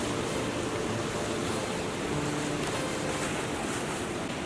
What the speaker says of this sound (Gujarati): રસ્તા ઉપર જતું રહેલું છે પાણી